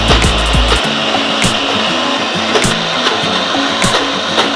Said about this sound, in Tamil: இந்த சுண்டக்காவை நம்ம அரைச்சி எடுத்துக்கிறோம்